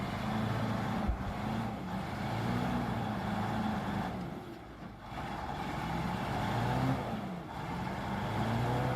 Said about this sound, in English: Beneath its steel skin roared a powerful 15-liter V8 engine